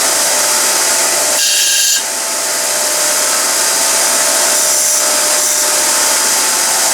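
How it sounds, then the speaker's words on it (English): A small 2-inch wide abrasive belt sander squaring off and deburring a brass workpiece for a model oscillating steam engine, giving a loud, steady motor whine with belt hiss throughout and a brief change in pitch when the work contacts the belt. "Then on my little 2-inch wide abrasive belter, I love to just square off the work and knock the burr off."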